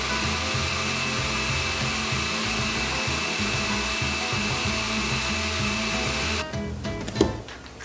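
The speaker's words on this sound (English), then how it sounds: "Put it on the blender, cover it up," A blender runs a green salsa of serrano peppers, garlic, onion, water and salt, a steady loud motor whir that holds nearly throughout, then cuts off near the end with a few knocks.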